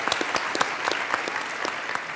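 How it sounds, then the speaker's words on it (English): An audience clapping at an evening civil forum event on orphans and adoption, steady continuous applause from a crowd filling the room, with no talking. "you can clap for that."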